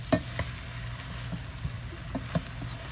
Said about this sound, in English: we're going to get everything all sauteed up here together like so.